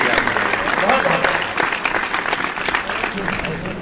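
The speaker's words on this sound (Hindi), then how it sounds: "जोरदार तालियां बजा दीजिए" An audience at a Hindi poetry gathering claps loudly, a dense burst of applause that gradually thins, with voices audible underneath.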